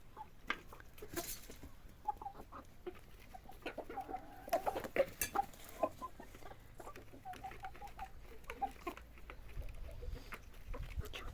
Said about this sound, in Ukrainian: Це все півники. Все півники.